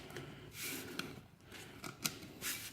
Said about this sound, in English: You just want to crank up on it slow.